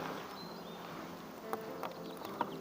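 Honey bees buzz around a heavy edge frame of a beehive, a continuous low, even hum close by, with a few soft knocks and clicks from handling.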